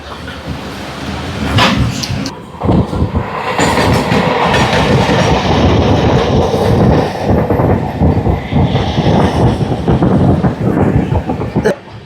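Loud, continuous rumble and rhythmic clatter of a passenger train running on the tracks after leaving Shaorapuli station toward Bandel, close by, with wheel noise throughout.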